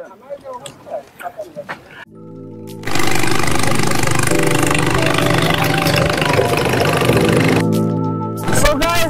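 A vehicle engine starts and settles into a loud, steady running drone close by as a group begins a ride on a Bandarban tour road, following brief chatter.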